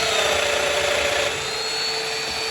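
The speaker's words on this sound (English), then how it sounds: "Do a plunge cut." A Festool Domino joiner makes a plunge cut into wood, sounding as a loud, steady high-pitched motor whine with a grinding cutting tone that eases slightly partway through.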